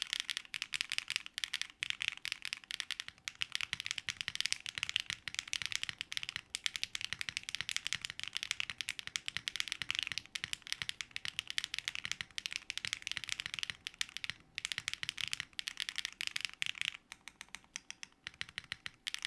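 A mechanical computer keyboard is typed on continuously, giving dense rapid clacky keystrokes, close and fairly quiet, with brief pauses.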